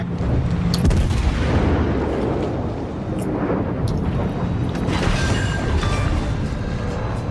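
Naval battle in a video game with a ship on fire and an enemy destroyer being sunk, heavy booming explosions and gunfire rumbling continuously and loudly with sharp bursts throughout.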